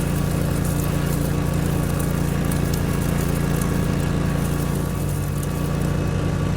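Lawn mower mowing in the video game Lawn Care Simulator, a loud, steady droning engine hum with a constant low rumble and buzzing tone, unbroken and close throughout with no talking.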